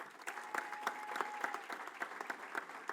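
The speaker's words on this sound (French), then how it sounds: "on peut les applaudir très très fort" Applause for security staff at a political rally in Amiens, a fairly faint, steady patter of many hands clapping with a thin voice-like tone running through.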